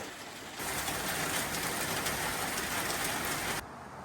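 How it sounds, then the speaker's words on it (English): Rain pours steadily on an outdoor patio, a dense, even hiss that starts abruptly and cuts off a few seconds later, with no voices. "Just waiting for the rain to stop."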